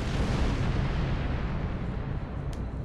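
Klingon turrets blowing apart in the Star Trek Online space combat game, a dense, continuous roar of rumbling explosions and artillery-like booms, loud and sustained throughout, with no talking.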